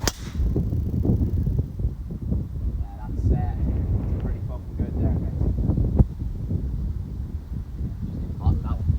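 Steady wind rumbling across the microphone on an open golf course beside a big lake, a low continuous buffeting that persists throughout, with faint voices in the background.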